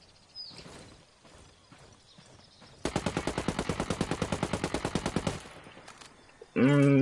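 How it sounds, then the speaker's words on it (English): Rapid automatic rifle fire from a Ghost Recon Wildlands recoil-control test, a steady burst of about two dozen evenly spaced shots after a few scattered single reports, ending in a loud tonal game sound. "Missed about 4 shots there."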